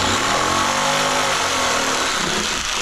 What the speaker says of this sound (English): Then we'll just come back in with the jigsaw here real quick.